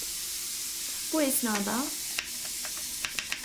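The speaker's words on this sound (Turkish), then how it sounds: "sesi de duyduğunuz gibi tavam çok güzel ısındı. Etler burada cız yapıyor." Beef strips sizzle in a hot pan for fajitas, giving a steady frying hiss that runs throughout, with a brief stretch of speech over it and a few sharp crackles near the end.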